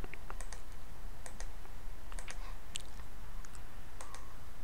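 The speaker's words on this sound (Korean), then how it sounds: "타이핑을 하십니다." Computer keyboard being typed on while entering a search term, irregular clusters of light clicks over a steady background hum, close and fairly quiet with no speech.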